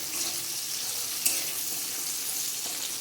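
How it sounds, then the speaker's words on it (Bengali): Carrots frying in hot oil for a wedding-style sukto, a steady close sizzling hiss with faint crackles and one small clink, unbroken throughout. "আমি এবারে গাজরগুলো ভেজে নিচ্ছি"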